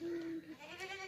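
A goat bleats from a pen at a farm, one drawn-out wavering call, close and fairly loud, with no talking.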